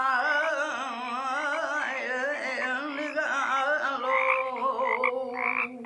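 A chorus of frogs at a fountain croaks close by, with overlapping warbling calls that pulse on and off continuously and loudly and no talk over them.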